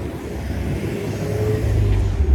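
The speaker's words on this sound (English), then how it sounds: "There's another crowded bus." A crowded city bus passes on Oakwood Avenue at night in Toronto, a low engine rumble swelling steadily louder over a couple of seconds as it approaches close by.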